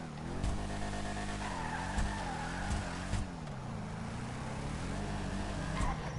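Vapid Ellie muscle car engine in Grand Theft Auto 5, revving up and down in waves with tire squeal and skidding, loud and close with occasional thumps.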